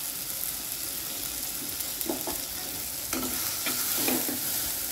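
Tomatoes being sautéed in a pan for dhaba-style palak paneer: a steady hissing sizzle with a few soft spatula scrapes and taps near the end, no talk.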